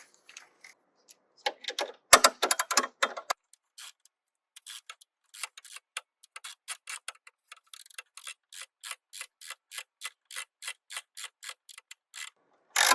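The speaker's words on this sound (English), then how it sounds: "Then I'll use the ratchet there." A ratchet tightens the horn bolt on a 2023-2024 Honda CR-V with a quick run of crisp metallic clicks, close and fairly loud, after a few scattered taps and a short rattling burst.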